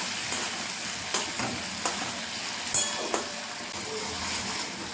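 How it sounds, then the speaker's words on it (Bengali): Ginger and cumin paste with chillies sautéing in a pan for a vegetarian ridge gourd dish: a continuous close sizzle and fry, broken by several sharp scrapes and taps of a spoon stirring, with no voices. "এখন এটাকে ভালো করে কষিয়ে নিচ্ছি আদা জিরে গুঁড়োটা যেন কাঁচা গন্ধটা চলে যায়"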